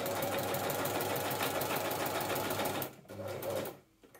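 A sewing machine stitches stretch fabric for a dragon cosplay dress, running steadily and close for about three seconds before slowing, pausing, and briefly running again.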